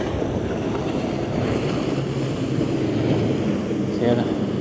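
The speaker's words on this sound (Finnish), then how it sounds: "Sieltä mennään moottorivenemestä ohi." A motorboat passing on the sea during a sailing trip near Porvoo, its engine rumble blended into steady wind buffeting and water rush, loud and continuous throughout.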